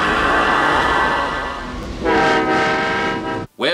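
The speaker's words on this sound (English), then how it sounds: "too bad the train got there early" A train and its horn from a horror film, a loud sustained harmonic blare over steady rail rumble, swelling into a stronger second blast before cutting off abruptly near the end.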